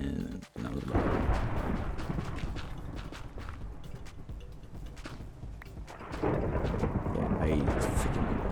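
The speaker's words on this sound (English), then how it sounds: "Yeah, I freaking hate thunderstorms." Deep rolling thunder booms rumble through a stormy scene in a video game, a heavy continuous roar that swells, eases midway, then surges again toward the end.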